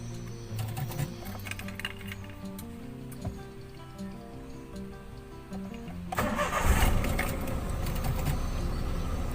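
A car with an ISC actuator fault cranks and fires up, a loud burst of engine noise giving way to a steady idle.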